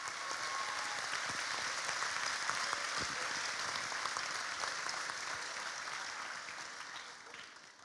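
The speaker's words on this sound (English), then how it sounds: "Please give them a big applause for the work they did." An audience at a school international festival applauds, a steady, moderately faint wash of clapping with some voices underneath, tapering off near the end.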